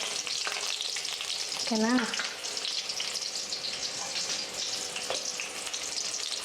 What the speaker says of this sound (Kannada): ಎಣ್ಣೆ ಕಾದಿದೆ, ಎಣ್ಣೆಲಿ ಫ್ರೈ ಮಾಡಿ ಆಮೇಲೆ ರುಬ್ಬೋದು